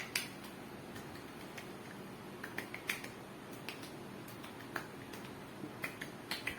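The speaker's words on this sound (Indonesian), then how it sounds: "aku tepuk-tepuk supaya peredaran darahnya lancar" Hands gently pat the chest during a massage, producing soft, irregular tapping sounds close by against a quiet background, with no talk.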